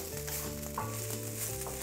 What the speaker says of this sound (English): our seitan and our shallots and garlic are continuing to saute lightly